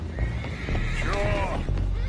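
Horses whinny in Red Dead Redemption 2, with one long rising and falling neigh at mid-clip over clip-clopping hooves and busy in-game ambience.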